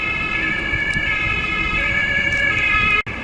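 An emergency vehicle siren, ambulance or police, wails steadily through a city street in Frankfurt, its sustained tones holding at moderate distance over traffic rumble before cutting off abruptly near the end.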